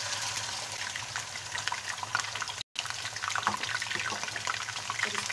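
Chicken pieces frying in hot oil in a pan for white chicken karahi, a dense crackling hiss that runs steadily throughout, close by, broken only by a brief cut near the middle.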